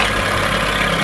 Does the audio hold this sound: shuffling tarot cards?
no